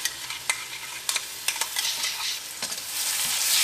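Ginger garlic paste sizzles in hot oil in a pan with green chillies for a potato curry, a bright continuous frying hiss broken by sharp scraping clicks of a spoon stirring, and the hiss swells louder toward the end.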